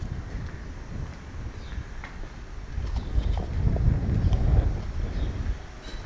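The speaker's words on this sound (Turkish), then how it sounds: "Hava şu anda rüzgarlı." Wind gusting on a street near the Ottoman-era Yazıcızade Mosque in Kyrenia, a low rumbling buffet against the microphone that swells in the middle and stays fairly steady and close throughout.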